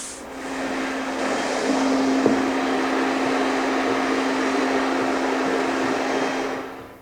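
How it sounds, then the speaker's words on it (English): Vacuum cleaner picking up dust after light sanding between finish coats in a home workshop, a steady droning motor hum with a constant pitched whine, running alone for several seconds before switching off. "I'll get the vacuum, and then we'll be ready for another coat."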